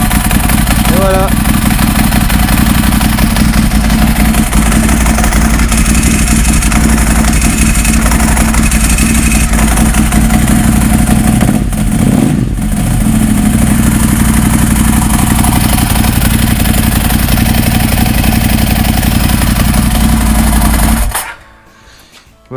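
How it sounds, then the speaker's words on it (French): A Ducati motorcycle with a freshly replaced dry clutch idles steadily and loudly after a start test, its mid-pitched engine clatter continuous for about twenty seconds before cutting off abruptly. "On fait un test de démarrage."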